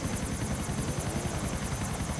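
A helicopter in the video game GTA IV gives a continuous rhythmic rotor chop with engine whine, steady and close for the whole stretch, with no talk over it.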